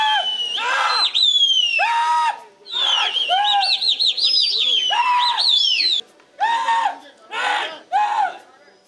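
Pigeons' calls and whistly chirps ring out in bursts, with a sweeping, warbling whistle in the middle and short trilling calls repeating toward the end.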